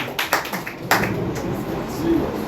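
An audience at a junior high school science and maths quiz claps for a competing team: a burst of scattered hand claps and taps, fairly close, with voices murmuring underneath.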